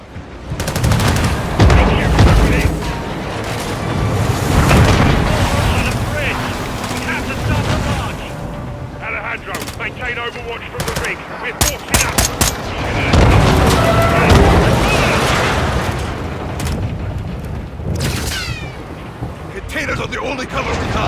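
Gunfight in Call of Duty Modern Warfare 2 on Xbox Series S: dense bursts of gunfire, machine-gun rattles and booming explosions fill the scene continuously, with voices shouting over the combat.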